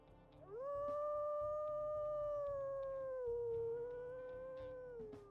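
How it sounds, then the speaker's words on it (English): A wolf in the video game WolfQuest gives a single long howl that rises quickly, holds steady, then dips slightly lower and fades, clear and alone over a quiet background. "We'll listen to his howls as well."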